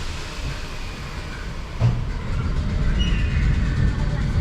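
A Merseyrail train runs underground from Hamilton Square toward Conway Park with a steady low rumble and rail roar from on board, briefly swelling with a clunk partway through, and a faint high squeal later on.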